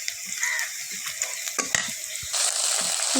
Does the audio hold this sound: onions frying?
yes